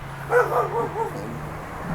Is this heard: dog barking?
yes